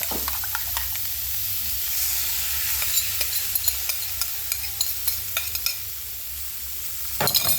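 Egg and sliced bitter gourd sizzle steadily in a pan with a spatula scraping and stirring in quick clicks throughout, the frying close and continuous with a louder scrape near the end.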